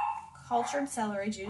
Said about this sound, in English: Sorry for my barking puppies.